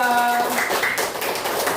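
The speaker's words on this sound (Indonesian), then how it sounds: "tepuk tangan untuk kelompok" Classroom group clapping for a student team after a presentation, a short burst of close, fairly loud hand claps with a few tonal voices and sounds under the start.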